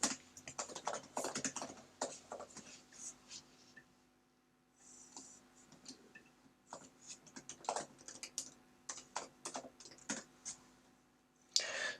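Typing on a computer keyboard, close and fairly quiet, with irregular runs of key clicks broken by short pauses and a brief silent stretch partway through.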